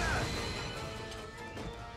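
A frozen enemy smashed in The Legend of Zelda game, a sharp icy crash at the start followed by a scattering, fading shatter, loud and close with no talk.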